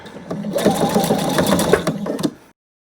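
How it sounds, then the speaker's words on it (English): A sewing machine stitches a quilt label close to the edge, running steadily up close for about two seconds before stopping. "Okay, and so that is my label sewn on."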